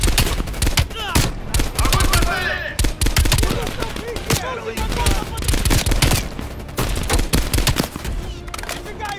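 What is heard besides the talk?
gunfire in the Call of Duty Cold War video game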